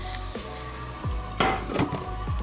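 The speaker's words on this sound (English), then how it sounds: "While the oil is hot, just dump it the seasoning" Indomie seasoning hits hot oil in a bowl with a loud, continuous sizzle, mixed with a few soft knocks and scrapes.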